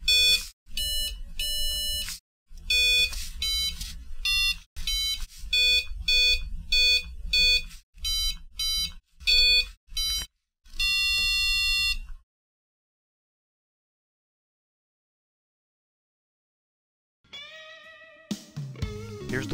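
A TMR linear magnetic encoder plays electronic musical notes through an Arduino-type setup: a run of clear, buzzy beeping tones in quick, uneven rhythm, then a long silence before a few brief notes return at the end.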